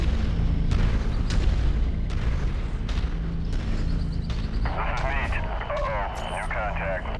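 Rapid gunfire and booming explosions from a mech combat video game, dense and continuous throughout, with a burst of higher-pitched mechanical or alarm-like tones rising near the end and a voice talking briefly over the action.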